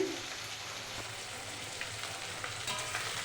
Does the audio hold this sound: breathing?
no